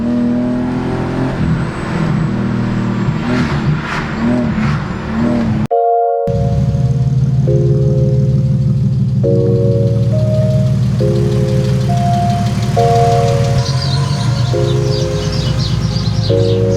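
A BMW E46 accelerating hard in second gear from inside the car, with a loud, rising engine drone that sweeps steadily upward after a brief cut, with music mixed in.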